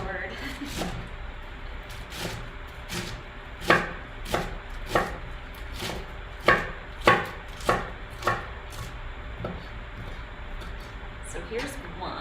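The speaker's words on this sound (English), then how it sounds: "we chop lengthwise, and then we chop crosswise" Knife chopping salad vegetables on a cutting board, a dozen or so sharp, irregular thuds spread across the stretch, close and distinct, with a person talking at times.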